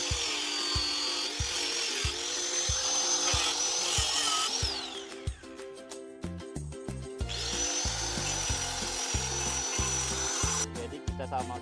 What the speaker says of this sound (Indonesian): untuk di bagian ini kita buang menggunakan gerinda